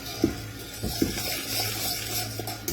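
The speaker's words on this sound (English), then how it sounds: "And rinse out your bowls so you have no waste." Water runs and splashes as soup bowls are rinsed out in a kitchen, a soft steady wash close by with a couple of faint clinks.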